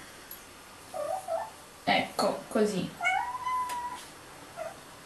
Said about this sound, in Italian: questo è il mio gatto che implora cibo